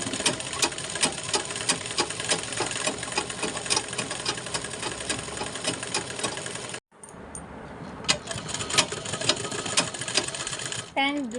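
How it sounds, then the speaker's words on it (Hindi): A domestic sewing machine runs steadily and fairly close in a home, its fast mechanical clatter continuing for about seven seconds, then breaking off briefly before resuming. "सिलाई मशीन में बैठ कर कुछ काम निकाल लें"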